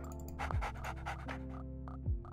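An attack dog in the strategy game Red Alert 2 pants in quick, rhythmic bursts, breathy huffs that come close and clear over a low, steady game background.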